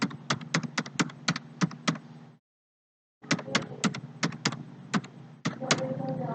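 Rapid clicking of keys typed on a computer keyboard, clustered in quick bursts with a brief pause of silence in the middle, close and fairly clear over a low background hum.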